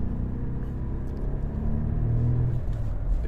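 A Ford Focus 1.0 155hp engine pulls under acceleration from inside the car, a low steady rumble with a faint rising drone toward the end, with no talk over it.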